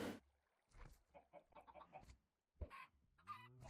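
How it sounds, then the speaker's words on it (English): Chickens cluck in short bursts from a chicken tower in Minecraft's FTB Infi-Tech 2, with a few scattered calls separated by brief quiet gaps. "I've got 1 chicken tower"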